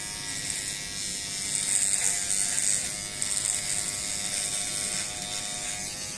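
An electric beard trimmer buzzes close up while trimming a goatee at home, a steady high-pitched whine that swells slightly as it cuts through hair.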